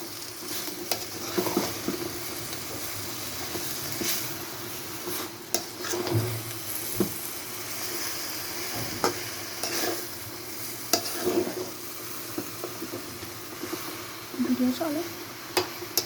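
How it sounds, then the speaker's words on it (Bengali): Malabar spinach with prawns is stirred in a pan, soft sizzling frying under periodic scraping and clattering strokes of a spatula, with brief background voice sounds. "শাকটা নাড়াতে দিলাম"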